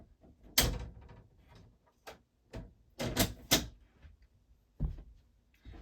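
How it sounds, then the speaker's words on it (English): A toy Mazda Bongo Brawny van, a small die-cast model, gives a string of sharp, close plastic clicks and snaps as its door is worked open, spaced irregularly in a quiet room. "the door's already opening"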